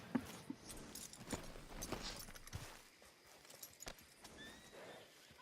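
Faint horse hooves clopping at a walk with a soft whinny, scattered sharp knocks, and a quieter stretch near the end, from the video game Red Dead Online.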